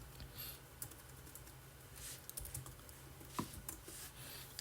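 Quiet keystrokes on a computer keyboard while configuring a Cisco device, irregular taps and short clusters of clicks, close but faint with no talking.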